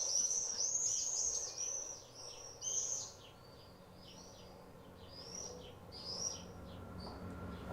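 Shrill, high screaming calls of swifts come in repeated short bursts, some louder and nearer, others fading, over a soft outdoor background.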